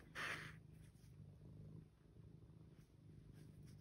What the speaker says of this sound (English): trying to craft with a cat